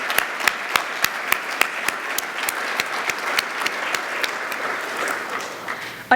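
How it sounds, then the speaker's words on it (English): A round of applause for the organizers at an evening education awards event in Merced County: dense, steady hand clapping from an indoor audience, sharp individual claps standing out, continuing alone without talk. "please join me in recognizing all their efforts with a round of applause"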